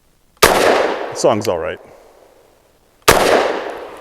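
Two sharp, loud shots from a Walther PDP F Pro pistol, nearly three seconds apart, each with a ringing decay, and a brief spoken phrase between them.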